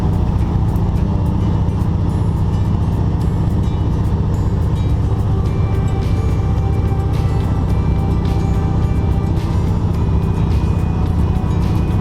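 A loud, steady Pratt & Whitney Wasp radial piston engine drones continuously with a rough, throbbing rumble, heard from close by inside a small aircraft.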